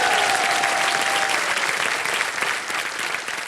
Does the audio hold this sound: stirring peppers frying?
no